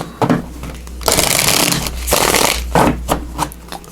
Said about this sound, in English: So let's give it a couple shuffles here one more time.